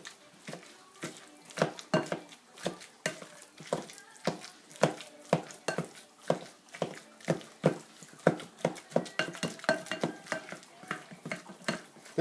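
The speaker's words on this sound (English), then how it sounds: "Just take it in there and mash it all together." Avocados mashed for guacamole with a kitchen masher, heard as a steady run of sharp clinking strikes against a bowl, roughly one or two per second and close, with no talking.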